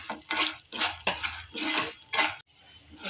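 Urad dal dry-roasts in a pan for curry leaf powder, stirred with a metal spoon in rhythmic scraping strokes, about six close, gritty swishes with brief pauses between them.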